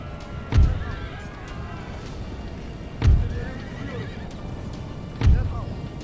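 Cavalry horses in Empire: Total War neigh three times at spaced intervals, each loud whinny rising sharply over a steady rumble of hooves and battle noise.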